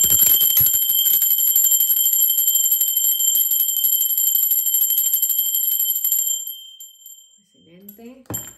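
A bell rings rapidly and continuously with a bright metallic tone, then stops, followed by a brief voice.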